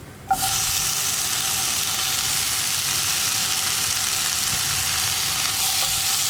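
Chopped tomatoes hit hot oil with spice powders in a pan for a Kerala tomato curry, a sudden loud sizzle that settles into a steady close frying hiss with no talk.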